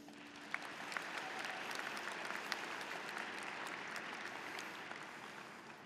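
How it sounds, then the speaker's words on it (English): A large crowd of graduating high school students applauds themselves at their commencement, with broad, continuous clapping that sounds somewhat distant and steady throughout. "Please give yourselves a round of applause."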